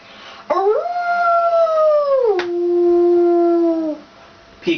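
A voice imitates a wolf howl, with two long, rising then falling sustained howls, loud and close, sliding down in pitch at the end.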